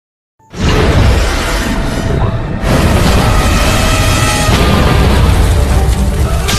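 A sudden heavy blast as a Kaiten human torpedo strikes the bow of the USS Indianapolis, sustaining as a loud, rumbling roar, with a second surge partway through.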